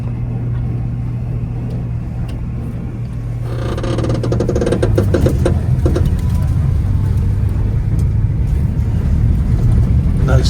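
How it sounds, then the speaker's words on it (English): A tractor engine idles with a low steady drone, then revs up and runs louder and rougher, throbbing close by, with voices occasionally heard over it. "Who wants to see how fast the tractor goes"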